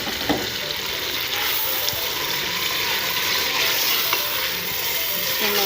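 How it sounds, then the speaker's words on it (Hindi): Washed dal frying in a spiced masala in a home kitchen pan, a steady dense sizzle with occasional scrapes and stirring clatters throughout. "तो मैं अच्छी तरह पहले थोड़ी सी देर फ्राई करूँगी।"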